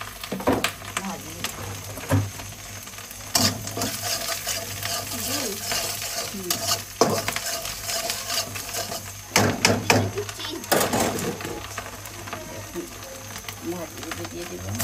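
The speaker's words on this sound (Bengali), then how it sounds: "আমি এখানে ভাজি বসাই দিছি, ডিম দিয়ে ভাজি করবো।" An egg and vegetable bhaji fries in a pan with turmeric, soft sizzling under repeated scraping and clinking of a spatula stirring, close by, while someone talks over it.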